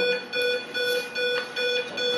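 Alarm on a Prisma CFM machine beeping in a steady repeating pattern of tones, about four short pulses over two seconds, clear and alone with no talk.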